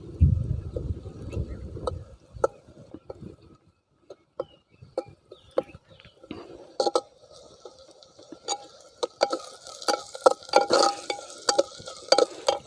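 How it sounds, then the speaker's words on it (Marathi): Chutney frying in oil with roasted tomato and onion in a pan, a soft sizzle at first giving way to clinks and scrapes of stirring in a steady, irregular rhythm, heard close with no talking. "चटणी थोडीशी तेलात भाजायची"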